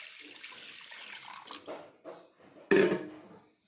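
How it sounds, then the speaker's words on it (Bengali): Water is poured into a cooking pot for an oil-free jute leaf broth, a splashing, trickling pour that builds and ends with a sharp louder gush, heard alone and close. "প্রথমে জল দিয়ে দিব।"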